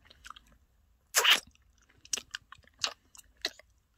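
Close, quiet chewing of a firm, rubbery gummy jelly, with several separate moist crunching bites spread across the moment and near silence between them.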